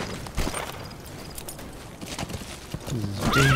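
A horse in the video game Metal Gear Solid V clip-clops along under soft background noise, then lets out a loud, close neigh and whinny near the end.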